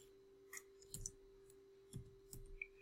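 Sparse keyboard typing on a computer, a few scattered soft key clicks in small clusters over a steady faint electrical hum, close and quiet.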